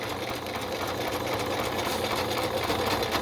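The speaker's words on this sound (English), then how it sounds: "I'm just doing them in a straight stitch" A sewing machine runs continuously at speed, straight-stitching fabric scraps onto junk journal cards, giving a dense, rapid mechanical whir and clatter close by with no voices.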